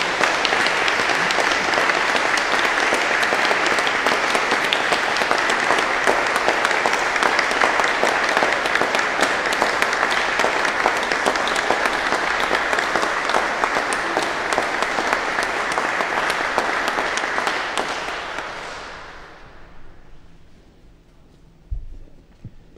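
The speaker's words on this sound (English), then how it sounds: "So let's give them a huge round of applause," A church congregation at a Sung Eucharist gives a long, loud round of applause for a young ladies' choir, dense clapping that holds steady and then fades out near the end.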